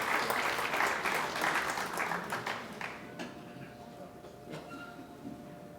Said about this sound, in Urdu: آپ کی بھرپور تالیاں